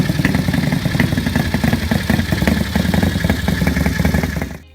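A 1929 Coventry-Eagle Flying 8 vintage motorcycle engine runs loud and close with a steady throbbing idle and mechanical clatter, holding even before cutting off at the end.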